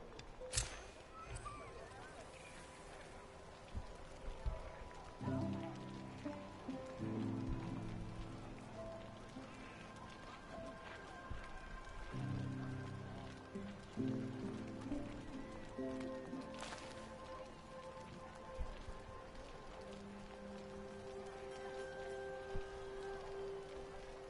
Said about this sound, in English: You're going to catch a cold in this rain.